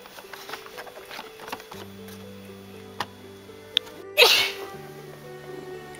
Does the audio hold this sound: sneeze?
yes